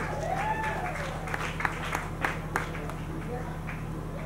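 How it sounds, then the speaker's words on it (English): A congregation applauds a pastor at an annual thanksgiving service, scattered hand claps with a few sharper ones standing out over steady room hum, while voices murmur and a brief vocal cry rises at the start. "A round of applause for Pastor."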